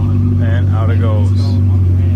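A car known as the Sion pulls out past a crowd of car spotters, its low, steady engine drone running beneath someone talking.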